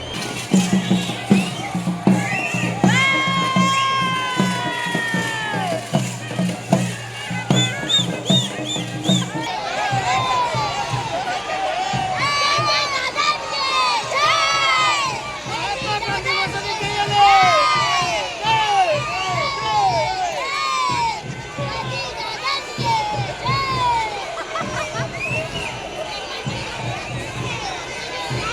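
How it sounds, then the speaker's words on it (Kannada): A large crowd at the Mysore Dasara procession fills the air with dense cheering, whistles and shouting children, loud and continuous, while people talk close by. "ತುಂಬ ಕ್ರೌಡ್ ಇದೆ"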